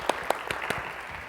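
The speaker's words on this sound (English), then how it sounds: "let's give a quick round of applause for Angel, huh?" A short burst of applause from a small audience at a banking industry showcase, steady clapping with a few louder claps standing out over about a second.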